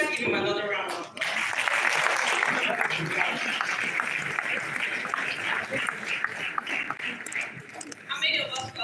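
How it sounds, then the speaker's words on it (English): Sustained audience applause at a memorial lecture, dense clapping filling the room for several seconds, loud and continuous with brief voices at the start and end. "Please let's give him another round of applause."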